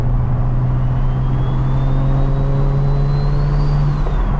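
A single-turbo BMW N54 335i accelerating under load, its engine note loud and steady from inside the car, with a rising turbo whine climbing above the droning exhaust throughout.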